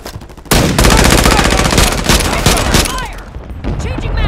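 Rapid automatic gunfire in the Call of Duty video game, loud and sustained bursts close up, with a brief quieter lead-in and a voice shouting over the shooting.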